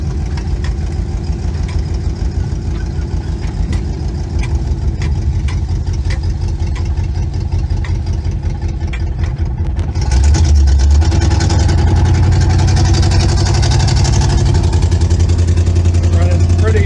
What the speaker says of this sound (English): Exhaust is 30-year-old cherry bombs.